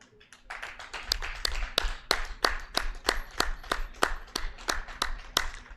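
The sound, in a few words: audience applause for Chef Anthony Jung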